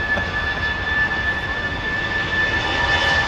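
Jet airliner engines at Shannon airport spooling up to takeoff thrust, a loud, steady broadband roar with sustained high whining tones, continuous and close, no voices.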